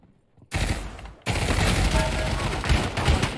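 Shotgun fire in the VR game Pavlov, two abrupt loud blasts with sustained roaring gunfire after, close and dense with no pause.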